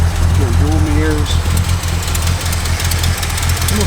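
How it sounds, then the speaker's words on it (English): A 1967 Plymouth Belvedere engine idles loud and close, a steady low rumble with a faint rhythmic ticking from a small exhaust leak, while a voice talks briefly over it. "we got a little exhaust leak, that's new"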